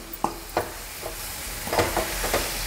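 A sweet mixture made without jaggery or sugar is stirred and roasted in a pan, with a few soft scraping strokes of the spoon at an irregular pace over a faint steady sizzle, heard close up with no talking.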